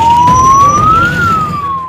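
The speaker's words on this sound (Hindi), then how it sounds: "एपरिक भिड़ जोगु पीएमजी छकरे दीर्घ समय धरी फसी रहितिला एक एम्बुलेंस।" An ambulance siren wails loud and close in a single rising-then-falling sweep, stuck in heavy traffic jam congestion in a city.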